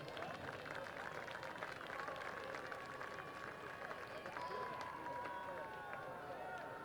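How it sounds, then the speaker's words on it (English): A crowd in the stands at a Sherando versus James Wood high school football game applauds the coaches with sustained, dense clapping and cheering, a public-address voice carrying over it. "let's give a big round of applause to all of our coaches at Sherando and James Wood"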